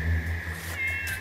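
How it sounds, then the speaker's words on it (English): A cat meows once in a drawn-out, plaintive cry close by, over a steady electronic hum in an otherwise quiet setting. "Come here, kitty."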